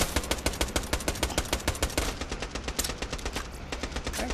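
Rapid automatic gunfire from a weapon in the video game Borderlands: The Pre-Sequel, dense bursts of loud, evenly spaced shots continuing throughout with brief changes in rhythm midway.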